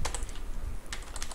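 Code being typed on a computer keyboard, a close, steady run of rapid key clicks in irregular bursts, with a brief pause midway and no talking.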